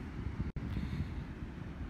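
Strong wind buffets the microphone in a steady low roar on a sunny English seaside coast with rocky shoreline, with one brief dropout partway through.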